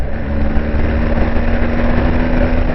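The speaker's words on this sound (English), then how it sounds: "Still has that bit of a tractor sound to it. All GSs have it." BMW R1250 GS Adventure HP Rallye motorcycle engine running steadily with a low, gruff, tractor-like drone, close and loud throughout with no talk.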